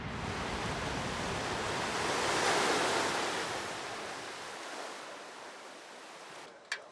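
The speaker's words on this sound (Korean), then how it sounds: "마을 앞바다의 파도가 심해서인데요" Rough ocean surf off a remote Indonesian island rolls in as a continuous loud wash of breaking waves, swelling in the middle and easing toward the end, with no voices.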